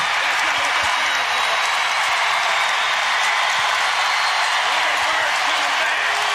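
Basketball arena crowd at Virginia vs Virginia Tech in Charlottesville, a loud, steady roar of cheering and applause filling the whole stretch with no break.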